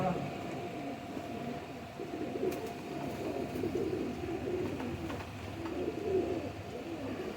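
A pure golden-breed pair of pigeons coos in soft, repeated low murmurs, close by and steady. Faint voices and background noise sit underneath.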